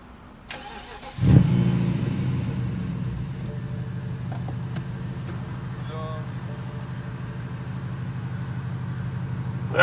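A car engine with a straight-pipe exhaust starts with a short burst, then settles into a steady idle rumble that runs on close by. A voice speaks briefly near the start.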